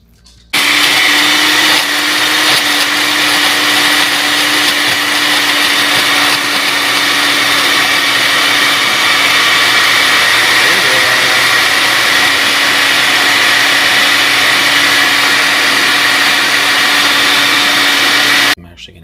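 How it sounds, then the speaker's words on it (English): A blender runs at full power on a wild blackberry and banana smoothie with yogurt, a loud steady whirring drone that starts abruptly and stops cleanly after about seventeen seconds. "And then give it a blend."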